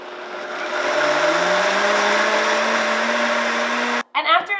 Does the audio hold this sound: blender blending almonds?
yes